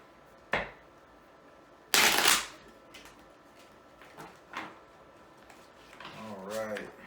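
Playing cards are shuffled and riffled in a few short bursts, fairly close, with quiet pauses between and a brief voice near the end.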